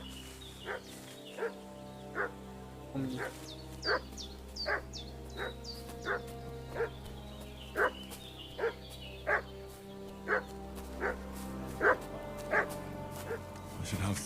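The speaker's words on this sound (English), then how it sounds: "What's that dog making such a fuss about?" A dog in the video game Kingdom Come Deliverance 2 barks and yelps again and again at a regular pace, fairly close, while someone speaks briefly.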